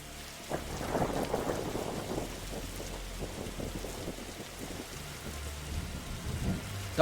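Rain pours steadily as a thunderstorm rumbles in The Darkside Detective video game, with a deep roll of thunder early on, continuous hiss of rainfall, and a sharp crack at the very end.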